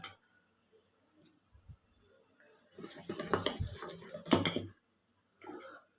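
Dosa batter with added sugar stirred in a bowl, a few faint clicks and then a loud scraping, sloshing burst that stops, followed by one shorter stir.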